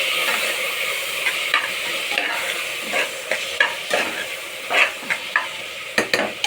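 Finely chopped tomatoes and other ingredients fry in a hot pan, with a steady sizzle broken by repeated scraping stirs of a utensil against the metal, close and clear with no talk.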